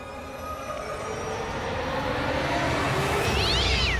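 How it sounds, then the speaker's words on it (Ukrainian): A cat gives a short meow near the end, heard over a steady, swelling rumble of background noise that grows louder through the clip. "Це просто кіт."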